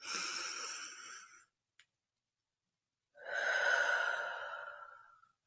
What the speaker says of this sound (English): 3 deep cleansing breaths.